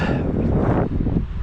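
Gusty wind blows steadily outdoors, a broad low rumbling roar buffeting the microphone that dips briefly partway through before surging again.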